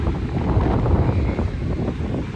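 Steady, loud wind buffets the microphone on a coastal walk in Sydney between Maroubra and Bondi beaches, a continuous low rumbling roar with no break and no talking.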